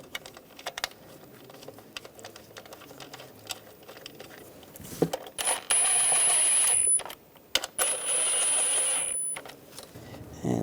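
Bolts being snugged down on the ignition coils of a 1999-2006 BMW 325xi, heard as close, quick mechanical clicking in bursts, with a thin high whine partway through.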